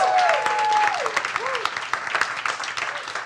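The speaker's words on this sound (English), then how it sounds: "Please give a round of applause for our contestants tonight" Audience applause at a live comedy and science quiz night, a steady wash of clapping with a high tonal whistle or squeal running over it early on.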